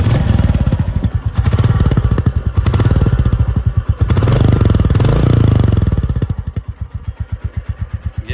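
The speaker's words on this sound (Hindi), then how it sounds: "ये एग्जॉस्ट साउंड है विदाउट मड फ्लैप।" A Royal Enfield Bullet 350 without a mud flap revs through its exhaust, a loud close thumping single-cylinder beat that swells in several revs and then drops back to a slower idling thump.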